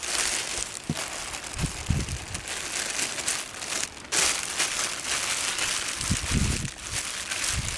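A paper towel crinkles and rustles continuously as it is stuffed into a bag to soak up excess oil from a small-engine air filter, with a few soft thumps up close.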